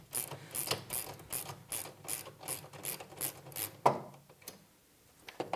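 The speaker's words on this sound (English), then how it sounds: "And we'll go lefty-loosey to loosen this bolt and take it off." A socket wrench ratchets while loosening a bolt on the carriage wheel of a Pilates reformer. It makes a regular run of close, crisp clicking strokes, then a louder clack and a few scattered clicks before it goes quiet.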